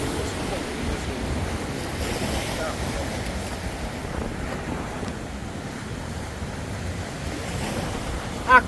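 Rough sea with waves surging steadily at a fishing spot, mixed with wind buffeting the microphone, a constant broad wash throughout.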